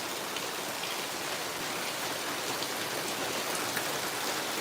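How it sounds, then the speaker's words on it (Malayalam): Heavy rain pours without a break late at night, a dense, even hiss of drops striking surfaces that stays loud and unchanging throughout, with no voices. "നല്ല മഴ എന്ന് വെച്ചാൽ ഇത് തോരാത്ത മഴയാണ്"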